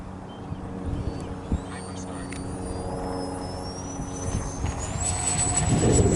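E-flite A-10 64mm EDF model jet with a 6S setup flying outdoors, its ducted fan whine rising and shifting in pitch at a distance while people talk nearby and wind rumbles.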